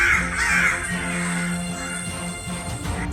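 A crow's caw in a Hindi Panchatantra animal story, a few loud, close, raspy calls repeated over about three seconds.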